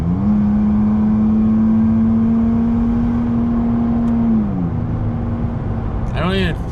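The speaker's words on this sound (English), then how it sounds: "here's what I mean by like a smooth downshift in like half throttle" A 2017 third-generation Toyota Tacoma TRD pickup engine holds a steady, loud drone and then smoothly drops pitch in a half-throttle downshift while accelerating, with a short whining sweep at the end.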